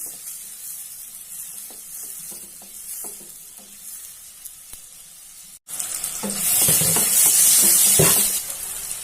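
Onions fry in a pan for mushroom fry, a steady sizzle with spoon taps and stirring. About halfway through the hiss jumps much louder and brighter, staying close and continuous without speech.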